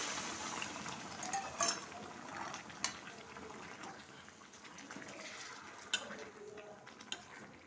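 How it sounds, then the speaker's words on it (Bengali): Hot water poured into a jackfruit and mango curry in a cooking pot, a faint steady splash and trickle with a few small clinks of utensils. "এবার দিয়ে দিলাম গরম জল।"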